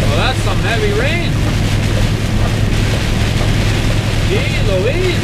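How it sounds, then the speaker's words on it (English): Heavy rain pours steadily onto a truck cab on the road near Houston, Texas, a dense, loud wash with a low engine drone throughout, while a voice rises and falls over it. "Well, that's some heavy rain."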